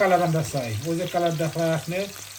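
Fish browning in a frying pan for a curry, a steady sizzle running under a person talking close by.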